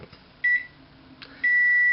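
A microwave oven melting chocolate for peppermint bark gives two short, bright electronic beeps, the second held longer, over a faint low hum.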